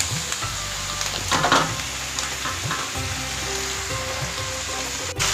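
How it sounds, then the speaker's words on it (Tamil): Green mango pieces sauté in hot oil in a pan with mustard seeds and curry leaves, giving a steady close sizzle with brief stirring scrapes throughout. "ஒரு நிமிஷம் நல்லா வதக்கி விடலாங்க."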